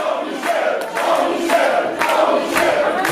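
At a French wrestling event, the Rixe show, the crowd cheers and applauds a returning wrestler in a new outfit: loud, dense crowd noise with rhythmic surges of shouting and clapping.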